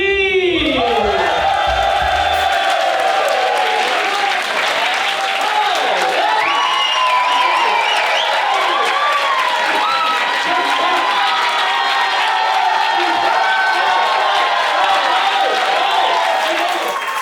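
A comedy club audience applauds and cheers loudly as a comedian takes the stage, sustained clapping with whoops and shouts throughout, close and full.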